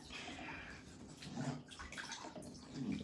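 A Labrador puppy being rinsed off in a bath, water splashing and running steadily around her, fairly quiet and close, with small surges of sloshing and no speech over it.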